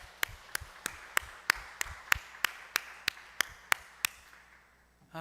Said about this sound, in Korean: 우리 오늘 예배를 받으신 하나님 영광의 박수를 돌려드립니다.